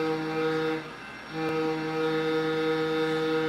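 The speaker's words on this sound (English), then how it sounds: "And then we have the GS4 air horn." A GS-4 locomotive air horn blows a chord-like tone, dips briefly, then sounds again in a long, steady blast.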